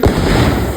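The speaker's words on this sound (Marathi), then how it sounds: "त्यानंतर सर्वांनी एक एक करून फटाके वाजवले" Diwali firecrackers burst in a dense, continuous crackling blast, loud and close, with no voices over the noise.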